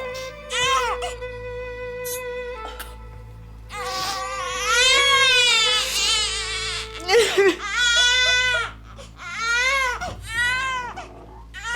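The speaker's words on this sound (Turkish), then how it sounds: "Kız toprak çocuk ağlıyor duymuyor musun?" A child cries close and loud in repeated wailing, sobbing bursts over about twelve seconds, with short gasps between the cries.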